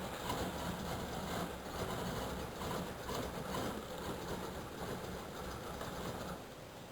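A 1985 Chevrolet Caprice Classic engine idles roughly after a cold start, flooding itself, a low uneven rumble that stays steady and close with slight surges throughout.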